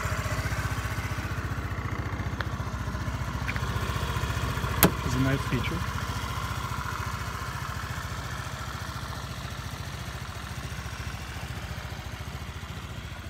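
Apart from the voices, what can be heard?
scooter engine idling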